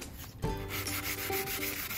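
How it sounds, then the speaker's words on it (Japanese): Sanding with 600-grit sandpaper over aluminium putty filling a hole in a FRP tail lens of a Nuts RV Mash camper; steady close rubbing strokes in a continuous scratchy rhythm, with no talk. "600番のサンドペーパーで削ってみます。"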